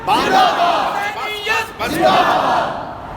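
Large crowd at a religious gathering roars religious slogans in unison, loud and close, in several swelling bursts with brief gaps between them.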